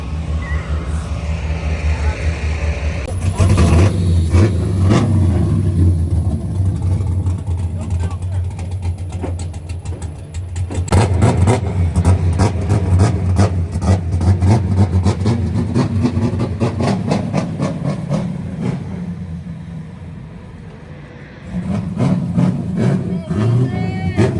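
An LS-swapped Nissan 350Z engine starts and settles into a steady, rumbling idle, loud and close, with a brief dip in level late on and people talking over it.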